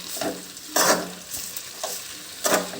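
Gongura chutney with tamarind being stirred up and down in a pan, a quiet steady sizzle broken by several loud scraping strokes spaced irregularly, no voices.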